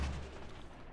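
Rocket fire in a video game, a single loud booming blast that fades out over about a second.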